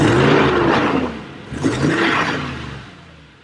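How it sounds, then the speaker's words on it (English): A 2015 Toyota Tundra pickup engine revs up loudly through an aftermarket exhaust, rising and falling in pitch through two throaty bursts with a deep exhaust rumble, then settles toward idle. "I do want to show you the sound of the exhaust from this."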